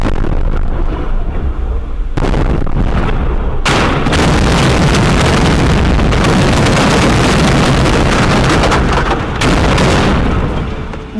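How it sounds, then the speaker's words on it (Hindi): Loud, continuous rumbling blasts of artillery shelling, with heavy booms layered over a dense roar and sharp bursts marking new shell impacts. "एक के बाद एक गोले बरस रहे थे"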